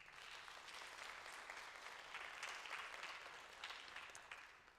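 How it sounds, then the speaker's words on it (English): Steady applause from an audience at a Mitchell High School awards ceremony, a dense, fairly distant wash of clapping that holds evenly for several seconds without talk. "give a round of applause for V"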